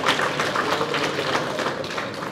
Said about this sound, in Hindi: एक बार जोरदार राइज के लिए ताली बजाओ भाई